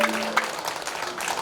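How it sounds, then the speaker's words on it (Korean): Audience applause at a Korean clan association general assembly after a lecture, a fairly faint, even patter of clapping with a few louder individual claps, no speech over it. "감사의 큰 박수 다시 한번 부탁드리겠습니다"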